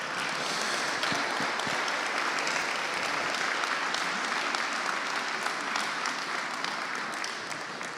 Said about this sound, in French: et de les applaudir très fort